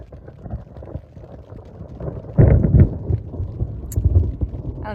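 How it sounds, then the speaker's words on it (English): Thunderstorm on a long-distance trail in the early morning, with low rumbling thunder that swells to a louder roll midway, over steady rain-like broadband noise. "Today is day 120 and it is thundering and lightning right now."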